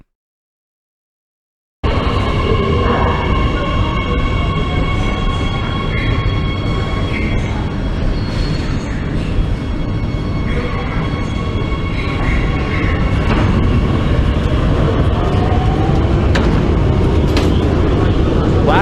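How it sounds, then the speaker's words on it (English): A Beijing subway train runs steadily and loudly throughout, with a continuous rumbling roar, rail noise and faint tonal whines from the motors. "the subway comes every 2 minutes in Beijing"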